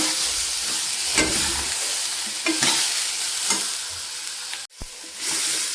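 Garlic paste fries in a pan with a continuous sizzle, punctuated by rhythmic stirring scrapes roughly every second, then briefly cuts out before resuming.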